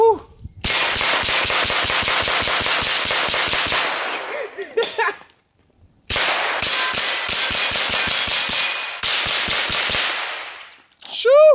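A 50-round pistol in the Ranch Simulator video game fires long rapid automatic bursts, loud and close, two sustained strings of shots separated by a brief pause with clattering and shell tinkles.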